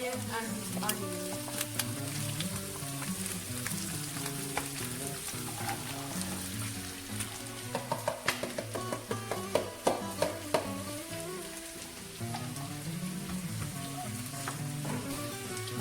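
Spring onion and onion sizzling in a pan give a steady frying hiss with a run of sharp spatters and utensil taps in the middle, while children and adults talk over it at times.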